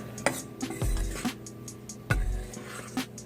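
Butter is mixed into flour for biscuit dough with a utensil in a bowl, giving a few soft thuds and scrapes with light clinks against the bowl, spaced irregularly and close by.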